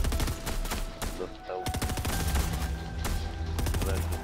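Gunfire in Fortnite: a rapid burst of loud shots, then a few more bursts and single cracks, dense and close, with game effects between them and no speech.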